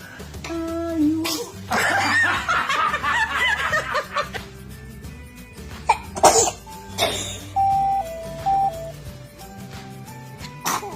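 A baby sneezes among small coughs, snickers and other little vocal noises, loud and close, with a couple of sharp bursts standing out from the quieter sounds in between.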